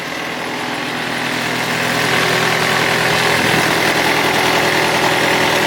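A 2011 John Deere 1600 wide area mower engine opens up to full throttle, its loud drone rising after a couple of seconds and then holding a heavy, steady roar close by.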